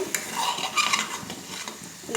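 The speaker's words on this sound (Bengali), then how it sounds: "দিয়ে একটু নাড়াচাড়া করে নিব।" Paneer and vegetables stirred in a pan with turmeric, cumin and salt, the spoon scraping and clinking against the metal in quick irregular strokes over a faint sizzle.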